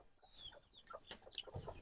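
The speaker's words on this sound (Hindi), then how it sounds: "मुर्गी को खोल दिए हैं" Chickens let out of their coop at a rural home give a few faint, scattered clucks and short calls, heard quietly against a soft background with no talking.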